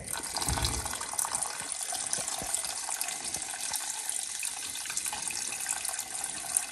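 Liquid rendered beef tallow pouring through cheesecloth from a crockpot, a steady, soft trickle with a low thump at the start and faint drips throughout, no voices.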